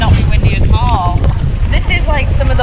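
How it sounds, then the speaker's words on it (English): Wind buffets a microphone by the sea at Nydri, Lefkada, while people talk over the gusty rumble. "It's just got a little bit windy."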